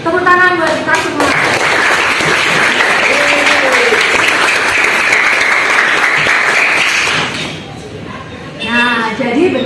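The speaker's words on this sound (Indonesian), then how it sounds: "Oke, tepuk tangan buat kita semua." Students in a school classroom break into applause, a dense burst of clapping that runs for several seconds before fading, with a teacher's voice speaking at the start and again after it ends.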